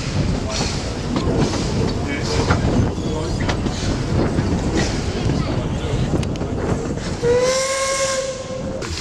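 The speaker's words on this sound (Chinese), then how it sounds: "现在在坐小火车" Aboard the small Puffing Billy steam train, a steady loud rumble of wheels and hissing steam carries on, with faint voices underneath, before a shrill steam whistle sounds near the end.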